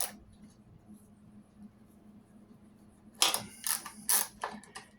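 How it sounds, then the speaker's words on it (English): A thread tap cuts threads into the foot of a Pioneer PL-518 turntable, a soft low hum at first, then a burst of sharp ratcheting, scraping clicks near the end. "Run that in there to cut your threads."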